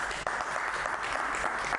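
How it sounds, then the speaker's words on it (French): Studio applause from a television crew and audience honoring the technical team, a dense, steady patter of clapping held at an even level for under two seconds with no voices over it. "On applaudit pour toute l'équipe technique"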